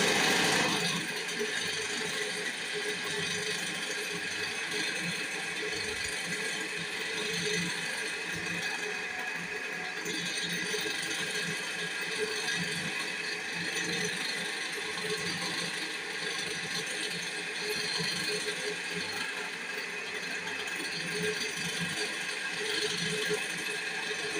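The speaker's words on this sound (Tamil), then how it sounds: "இப்படி புட்டு பதத்துக்கு பிசைஞ்சு மிஷினில் அச்சு போடணும்." A machine pressing dough into cup sambrani incense moulds runs continuously with a dense, steady mechanical clatter and rattle, loud and unchanging throughout the clip.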